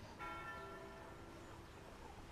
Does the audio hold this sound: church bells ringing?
yes